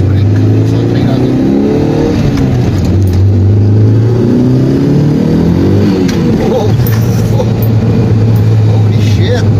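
A lowered Mitsubishi Spacewagon, riding on Evo five-lug wheels with four-wheel disc brakes, pulls hard on a test drive. The loud engine drone climbs in pitch through the gears, heard from inside the cabin while occupants talk.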